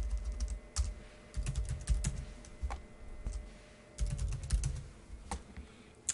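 Quiet, close computer keyboard typing comes in irregular bursts of soft clicks with brief pauses between them, heard alone with no talking.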